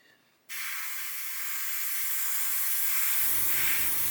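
A single close airbrush sprays thinned paint, giving a sharp, steady hiss that starts suddenly after a brief quiet moment and holds loud and even to the end, with a faint low rumble joining near the finish.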